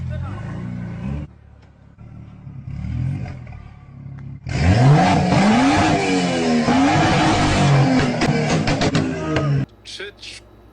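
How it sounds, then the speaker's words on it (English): A car with two-step launch control revs hard and loud for about five seconds, its engine pitch climbing and wavering, with sharp popping bursts toward the end. Someone talks before the engine noise starts. "if you have not been around a car that is set up with, I think it's called two-step or something like that, you won't understand how extremely loud those pops are"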